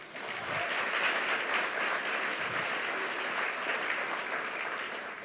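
Warm audience applause at an awards show after a jazz band's performance, a steady wash of many hands clapping at moderate distance that holds for several seconds and tapers slightly at the close.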